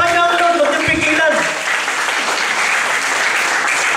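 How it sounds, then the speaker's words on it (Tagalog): A church congregation claps for the Lord in praise, with dense, loud applause swelling after a brief spoken and musical opening and continuing steadily to the end. "Sige, palakpakan niyo ang Lord, huwag niyo pigilan."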